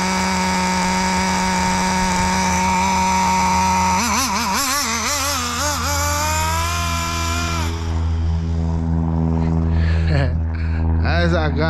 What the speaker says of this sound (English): I might get rid of this motor and put another motor in there, because this one ain't running right.